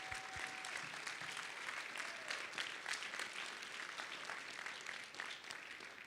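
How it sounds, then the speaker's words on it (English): Audience gives a round of applause at a service and sales conference, a continuous crackling clatter of many hands, fairly distant and even, with no pause. "can we give a round of applause for Dave for all the support on this?"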